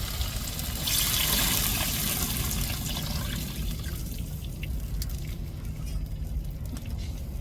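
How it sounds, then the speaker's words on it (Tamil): Ground masala water is poured into a black anchovy fish curry, a steady close splashing trickle that starts strongest, then settles into a softer, continuous pour. "மசாலா தண்ணி சேர்த்துக்கிடுவோம்."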